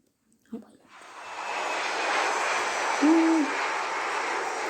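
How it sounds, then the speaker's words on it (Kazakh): An airplane in the video game Free Fire flies overhead, its engine drone swelling in after a brief click and holding as a loud, steady roar, with a short tone sounding partway through. "Самолет."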